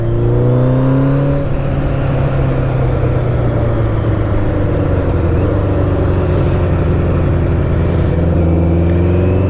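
A 1985 Kawasaki GPZ 900 R motorcycle accelerates hard and close, its engine note climbing through a gear change early on, then droning on loud and steady, with no one talking.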